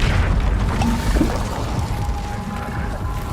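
An Incendio fire spell cast in Hogwarts Legacy: a deep whooshing boom of flame bursting out, followed by a fading low rumble, loud and close.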